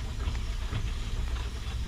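A Dolgoch steam locomotive on the Talyllyn line lets out a soft, steady hiss of steam lasting a couple of seconds, faint and close, with no talk.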